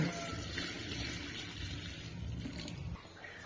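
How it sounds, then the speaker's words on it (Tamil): Water is poured from a small pot into salted pearl millet flour for koozh, a steady continuous gushing pour that runs for about three seconds and then stops. "ஒரு 2 சொம்பு தண்ணி ஊற்றிப்போம்"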